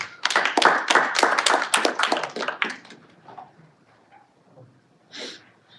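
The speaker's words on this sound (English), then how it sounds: "Please give them a round of applause." Applause at a Toastmasters-style meeting, a small group clapping for a few seconds that tapers off into scattered claps, then a breathy sound near the end.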